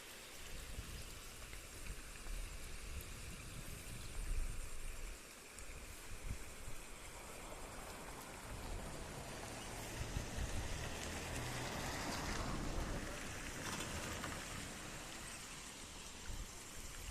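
Water flows in the Malan river with a steady rushing, splashing wash that swells and eases in places, and no one talks.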